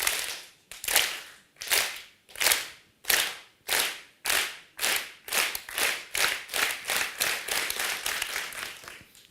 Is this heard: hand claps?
yes